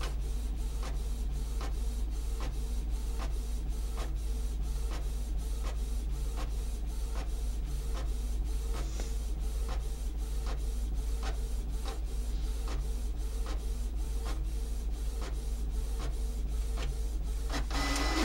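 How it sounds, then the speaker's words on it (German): A printer runs a sticker sheet through for a Cricut sticker project, a steady loud mechanical whir punctuated by regular clicking pulses of the print head moving back and forth, continuing throughout with no talking. "Ich hoffe, dass der Drucker jetzt macht, was er soll."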